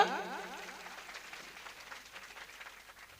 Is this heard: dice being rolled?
no